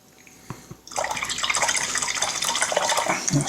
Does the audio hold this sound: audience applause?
no